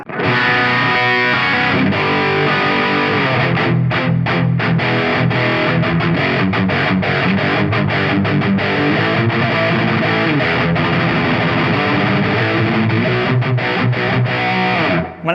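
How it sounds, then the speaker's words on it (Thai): A heavily distorted Cort G300 Raw electric guitar plays loud, dense riffs continuously, with thick sustained chords and brief choppy stops; no speech. "ส่วนเรื่องเสียงแตกไม่ต้องพูดถึงกีตาร์ตัวนี้"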